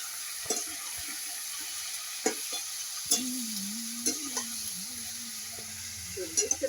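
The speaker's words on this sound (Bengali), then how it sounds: "একটু লঙ্কার গুঁড়ো দিয়ে আমি সবজিটা একটু ভেজে নেবো" Vegetables fry in a wok with chili powder and turmeric while a utensil stirs them, giving a soft, steady sizzle broken by a few sharp scrapes and clinks, close and fairly quiet, with a brief low tone near the end.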